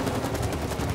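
Rapid continuous gunfire blasting through a barricade in the video game It Takes Two, a dense loud rattle of shots with no pauses throughout.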